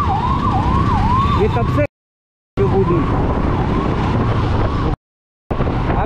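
An ambulance siren wails on the road, loud and close, its rising and falling tone cut off by brief dropouts, with traffic rumbling beneath and a few spoken words.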